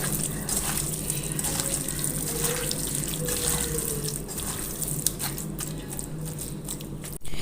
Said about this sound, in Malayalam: നമ്മളിതിലേക്ക് കുറച്ച് വെള്ളം കൂടി ഒഴിക്കുന്നുണ്ട്